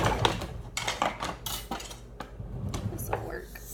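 Spoon and cutlery clatter in a kitchen while tomato bisque soup is made, with a rapid series of sharp metallic clinks and scrapes against a pot, close and fairly quiet.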